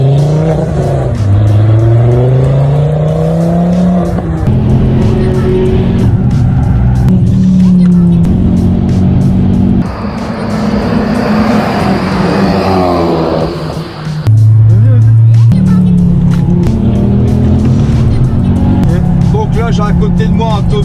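Ford Focus RS at full throttle on the Le Mans circuit, heard loud from inside as the engine climbs through gears in repeated rising sweeps, with gear-change dips and tire noise, and voices talking over it.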